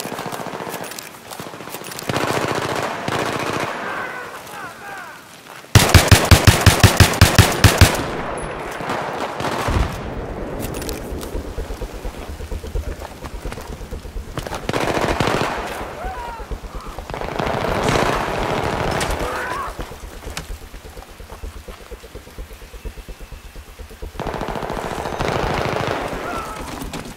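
Machine gun fire in Battlefield 3 team deathmatch, with a loud dense burst of rapid automatic shots near the start, then continuing bursts, distant gunfire and explosions through a busy battlefield mix.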